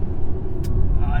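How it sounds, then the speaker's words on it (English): A 2025 Volvo EX30 cruises on a concrete highway at 70 mph, heard from the cabin as a loud, steady low road-and-tire rumble with a voice talking over it. "we're going over a concrete highway right now at technically 70 GPS miles per hour"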